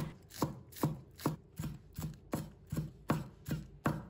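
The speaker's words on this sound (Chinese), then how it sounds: "再准备几根小葱，把它切成葱花" A knife chopping scallions on a cutting board, crisp, evenly spaced thuds about every half second, close and clear with no talk.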